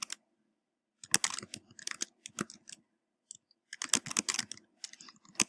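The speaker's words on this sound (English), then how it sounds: "Then you are going to start typing your answer." Someone types an answer on a computer keyboard, with close, crisp key clicks coming in quick bursts separated by short pauses, and no talking.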